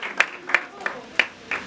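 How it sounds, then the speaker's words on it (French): An audience claps in short, sharp bursts at a French-language ceremony, five distinct volleys spaced about a third of a second apart, close and moderately loud. "Applaudissons, c'est pour les encourager."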